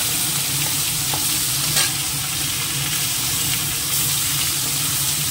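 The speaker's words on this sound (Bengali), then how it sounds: "তো একটু মাছটা একটা একটা করেই দিয়ে একটু হালকা ভেজে নেব" Fish pieces frying lightly in hot oil give a steady, dense sizzle throughout, loud and close, with a few faint stirring clicks and no talking.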